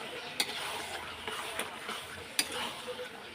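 Peeled boiled potatoes being stir-fried in a pan with spices at home, with a soft continuous sizzle broken by a few sharp spatula scrapes and taps against the pan.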